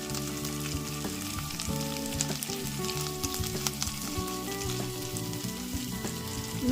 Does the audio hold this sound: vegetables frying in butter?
yes